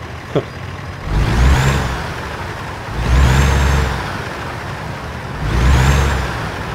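Truck engine in the American Truck Simulator video game, revving in three separate swells of deep rumbling roar that rise and fall, with a quieter idle between them.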